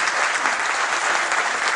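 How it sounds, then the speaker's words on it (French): Audience applause at a tourism awards ceremony, a steady, even wash of clapping from a crowd, moderately loud and continuous throughout. "merci de l'applaudir encore une fois"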